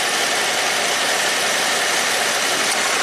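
A cold Jeep Pentastar V6 idles after an engine repair with a misfire at cylinder 4, shaking as it runs. It gives a steady, loud, broadband rumbling whoosh with no one talking.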